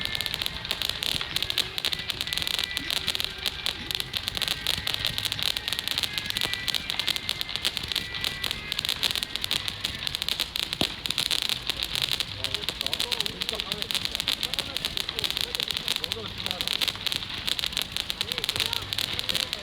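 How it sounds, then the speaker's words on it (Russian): Dense crackling bursts of fireworks popping continuously in the distance near Busan Harbor Bridge, South Korea, a busy, fizzing texture with occasional sharper bangs. "Четкий салют, вообще четкий."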